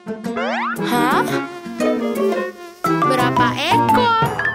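A cartoonish mosquito buzzing effect from a children's song about a lizard on the wall rises and falls in loud, whining sweeps, layered over upbeat music.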